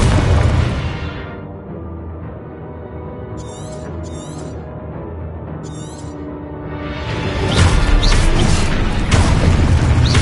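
Confringo blasting spell explosions in a Harry Potter video game, heard as loud continuous booming rumble that dips and swells again, with a few short sharp bursts in the middle and no talk.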